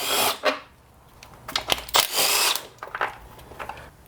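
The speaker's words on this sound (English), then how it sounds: "So I'm going to start with the 10mm socket on my impact." Cordless impact wrench with a 10mm socket spinning off cover bolts on a blown-up John Deere lawn tractor engine, heard as several short, close whirring bursts with small clicks and clatter in between.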